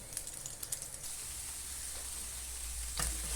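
Chicken pieces for fajitas fry in a pan with a continuous, even sizzle, a few light crackles and taps near the start, steady and close throughout.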